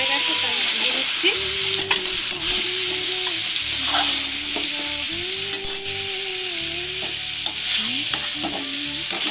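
Close, continuous crackling of marinated chicken frying in ghee and oil, with repeated stirring scrapes and small spatters over the steady sizzle.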